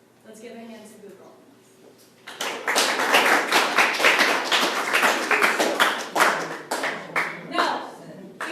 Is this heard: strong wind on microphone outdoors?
no